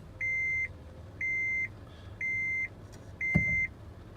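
Inside a Honda Odyssey, the dashboard sounds a service-due alert as four evenly spaced electronic beeps, each about half a second long, clear and close over a low engine idle, with a light click near the last beep.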